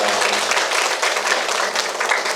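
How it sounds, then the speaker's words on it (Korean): An audience applauds loudly in a church service, a dense continuous roar of many hands clapping together, close and sustained from start to finish. "찬양대를 위해서도 다시 한번 큰 박수를 부탁드립니다."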